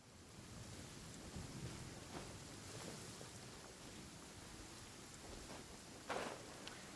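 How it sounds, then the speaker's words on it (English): Steady rain hisses in a video game with low rumbling thunder rolling underneath, and a brief sharper crack near the end. "I forgot about the rain."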